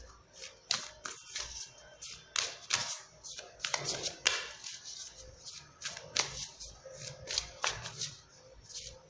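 Oracle cards shuffled and drawn by hand, a quick run of close, crisp riffling and snapping bursts with brief pauses, alone and fairly quiet.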